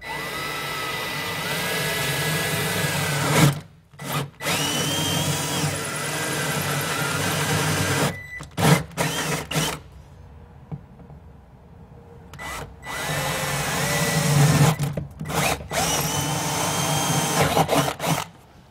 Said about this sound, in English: I'm going to drill a couple of holes